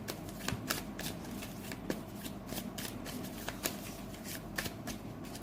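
Tarot cards are shuffled steadily, with a continuous papery riffle broken by sharp snaps and slaps that recur irregularly. The sound stays fairly close and moderately quiet, and no voice is heard.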